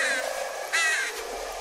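Two harsh crow caws from a video game, the second louder and brief, close and clear over a low background hum.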